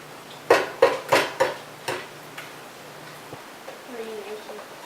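Sharp clinks of a whisk or utensil against a bowl while an egg is beaten into pumpkin spice loaf batter, about five quick taps close by, then quieter scraping.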